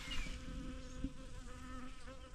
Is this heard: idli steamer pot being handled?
no